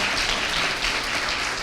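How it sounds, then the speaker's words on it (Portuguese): A church congregation applauding during a Sunday service, a steady dense wash of clapping from many hands, fairly loud and continuous throughout. "Vamos aplaudir a pastora Arlete."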